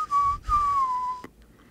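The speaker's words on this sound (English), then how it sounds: "I can't never really sing that high, so I always have to whistle it." Person whistling a song tune in two clear sustained phrases, the second sliding slowly downward, then a soft click; close and alone.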